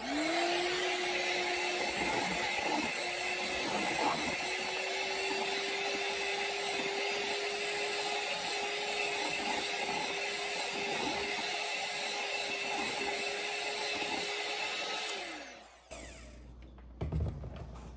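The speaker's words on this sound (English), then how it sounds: "Hit it with a hand mixer." A handheld electric mixer whips candle wax in a bowl to make a whipped candle, its steady motor whine running loud and continuous for about fifteen seconds before spinning down and stopping, with a few light knocks afterward.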